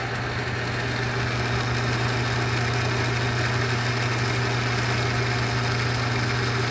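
A lathe feeds a cutter into the top of a Stihl 026 chainsaw piston to cut a small chamfer, giving a steady, continuous mechanical hum with a strong low drone and broadband whir, even and unbroken throughout with no voices.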